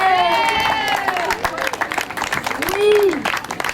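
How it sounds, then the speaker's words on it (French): Audience applause and cheering at a public speak-out event, a loud crowd sound that continues under voices talking and calling out over it. "Vous pouvez applaudir."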